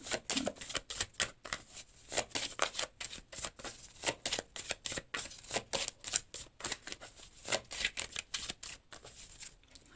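Tarot cards being shuffled and drawn, a quiet close series of rapid papery riffles and flicks in irregular bursts, with no voices.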